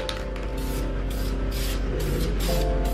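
A steady hiss of spray paint runs continuously from an aerosol can onto a valve cover, with faint mechanical hum underneath and no talking.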